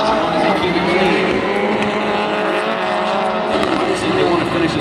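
Rallycross race cars roar past at a Global RallyCross Championship round in Las Vegas, engines loud and continuous with a steady, droning snarl, while a commentator talks over the action throughout.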